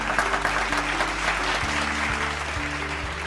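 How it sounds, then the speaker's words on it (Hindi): Audience applause welcoming a contestant on a singing competition show, steady dense clapping over a sustained musical drone and low rhythmic beats. "जोरदार तालियों से स्वागत करें उनका।"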